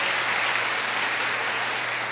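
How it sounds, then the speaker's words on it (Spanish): Church congregation applauding at a loud, steady level, a dense wash of clapping with no voices standing out. "Dale un aplauso fuerte a Jesús."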